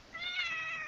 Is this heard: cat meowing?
yes